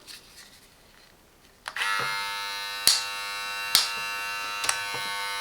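A Silvercrest 5-in-1 SHBS 3.7 E6 hair and beard trimmer switches on and runs with a steady, close electric buzz, broken by a few sharp clicks or knocks as it is handled.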